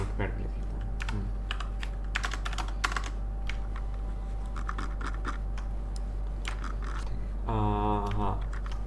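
Typing on a computer keyboard into Notepad during an online class, with steady clusters of close key clicks over a constant hum, ending in a brief voice.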